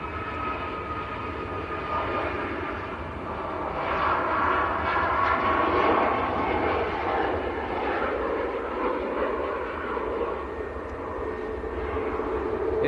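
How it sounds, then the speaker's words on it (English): SunExpress jet airliner bound for Antalya rolling down the runway at Manchester Airport, a steady broadband engine roar that swells in the middle and holds, heard from a distance with no voices. "Sun Express on the roll. Sun Express to Antalya."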